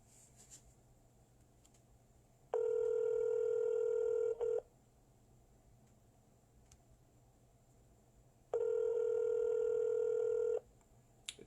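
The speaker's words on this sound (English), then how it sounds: "It's power hour. We're going to dial till about 7:45." Telephone line tones play during real estate cold calling: two long, steady electronic tone bursts, each about two seconds, separated by quiet, clear and close.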